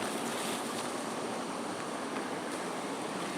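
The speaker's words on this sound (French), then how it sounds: "avec le bruit de la cascade." A waterfall at the Fontaine des Amours in the upper Aude valley rushes steadily, a dense, continuous roar of falling water heard up close with no pauses.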